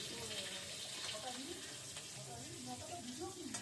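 Boal fish sizzles as it fries in oil in a covered pan, a soft, steady crackle with faint clinks and water-like hiss beneath it.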